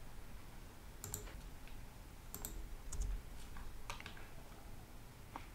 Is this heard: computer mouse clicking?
yes